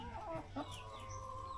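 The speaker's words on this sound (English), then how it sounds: "And here, Thai chicken." A Thai chicken on a rural Esan farm in Thailand clucks in the evening, with short, soft calls over steady low background hum.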